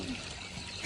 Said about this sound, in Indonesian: Dan Dia tuh ada kayak background seperti di sungai.